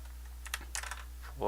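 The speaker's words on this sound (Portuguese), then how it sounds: "teclado mecânico" Quick clicks of typing on a mechanical keyboard come in a short, uneven burst of a few keystrokes, fairly quiet and close, with no one talking.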